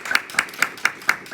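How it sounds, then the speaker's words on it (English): At a Rotary club meeting, a presenter gets a short burst of applause: six crisp, evenly spaced claps, close and distinct, with no voices. "So would you give her another round of applause?"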